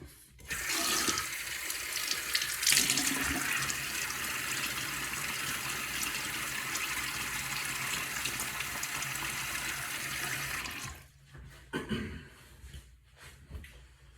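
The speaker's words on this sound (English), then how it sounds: "Let me get my face wet." Water gushes steadily from a bathroom tap for about ten seconds as a face is wetted before a wet shave, then cuts off, leaving a few faint splashes and drips.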